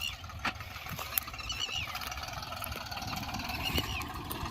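A faint, steady Deutz-Fahr 55 4WD tractor engine idles at low pitch, a soft continuous rumble with a few light knocks and no voices.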